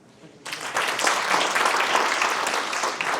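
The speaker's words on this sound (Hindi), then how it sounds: "ठोको ताली।" Classroom audience bursts into clapping that starts abruptly and continues as dense, loud, sustained applause in a Jaipur motivational session.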